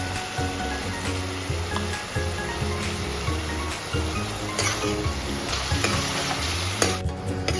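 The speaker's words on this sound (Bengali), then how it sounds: "এবার মশলাটা ভাজা ভাজা হয়ে গেছে" Spices fry with tomatoes and potatoes in a pan for a Bhandara-style malai aloo dum, a continuous close sizzle with repeated scraping stirs and clinks throughout, no voices.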